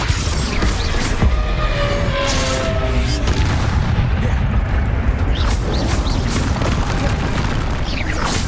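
Bombarda blasting spell cast in Hogwarts Legacy, a loud sustained boom and crashing rumble filling the whole stretch, dense and close, with game effects layered over it.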